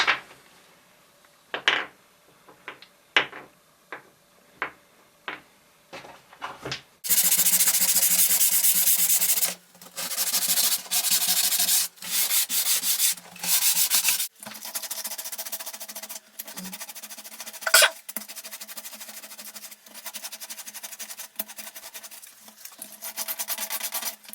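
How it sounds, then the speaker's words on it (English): Short scraping rubs repeat at first, then long stretches of steady, harsh sanding on wooden balls, into their holes, stopping and starting in bursts, loud and close. "improves sanding in the holes"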